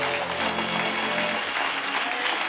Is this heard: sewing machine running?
no